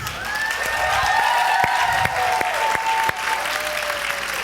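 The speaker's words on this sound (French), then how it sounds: "Là, je parlais d'applaudissements quand même sentis." A live audience breaks into loud, sustained applause filling the room, a dense wash of clapping with a few distinct sharp claps cutting through and a faint tonal sweep beneath.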